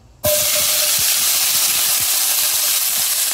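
Capsicum hits hot oil in a pan with a sudden loud sizzle that stays steady and close throughout, with a few faint stirring knocks underneath and no talking.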